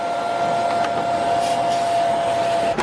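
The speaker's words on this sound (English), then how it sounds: "I'm actually going to vacuum out in there with the vacuum just to get all the extra leaves and everything out." A vacuum cleaner sucks leaves and debris out of the cabin air filter housing of a Saab 9-3, giving a steady, close whine with a constant tone that holds for about three seconds and cuts off at the end.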